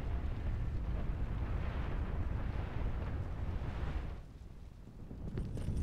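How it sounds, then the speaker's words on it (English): Explosions in the video game Binary Domain as a building collapses: a continuous rumbling roar with deep booming low end, loud and sustained, dipping briefly before swelling again. "Oh shit, explosions. The whole place is coming down."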